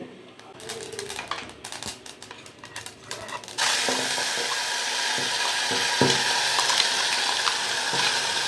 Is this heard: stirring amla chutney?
yes